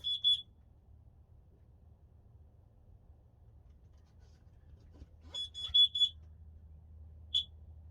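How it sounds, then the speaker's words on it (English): A carbon monoxide detector in an ice-fishing hub gives short, sharp beeps after its button is pressed: one burst at the start, a quick cluster of several beeps around five seconds later, then a single final chirp, all over a quiet low hum. "And I do have a carbon monoxide detector, so I'm gonna see how warm. Ooh, I just hit the button."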